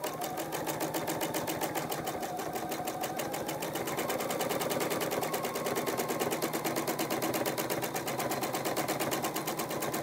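A domestic sewing machine runs steadily through machine quilting, its needle punching up and down in a fast, even rhythm that fills the whole stretch, close and continuous with no talk.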